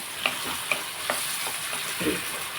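Frying of a Telugu-style spinach and chana dal curry in a pan just after tomatoes go in, with soft sizzling and a few scraping stirs spread across the short stretch, close and moderate in level with no voices.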